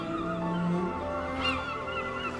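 Honking seagull cries in the video game RiME ring out over layered music, several calls rising and falling at moderate loudness with no voices.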